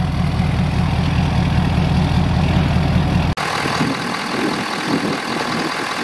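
A Ford F250 truck's 6.7 liter V8 diesel engine idles with a steady, deep low rumble that shifts to a lighter, thinner drone partway through, with no talking.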